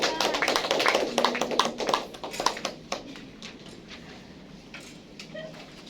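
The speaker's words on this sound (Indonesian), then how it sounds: "Beri tepuk tangan untuk semuanya yang sudah berani menjawab." Scattered claps from schoolchildren in a classroom during a microteaching lesson, a brief burst of applause that quickly thins out into a few isolated taps and then quiet room tone.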